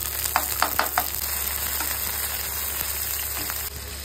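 Chicken sizzling and frying in mustard oil in a pan, a steady close crackle with a few louder stirring clinks early on, no talking.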